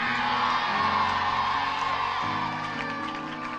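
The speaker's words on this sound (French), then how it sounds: "Est-ce qu'on peut pousser des cris pour Jésus pour les élèves?" A church crowd shouts and whoops for Jesus, sustained loud cheering and yelling from many voices filling the room, fading slightly toward the end.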